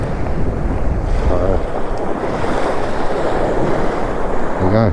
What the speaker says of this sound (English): Right on the edge of the water here, which is hitting the beach quite hard this morning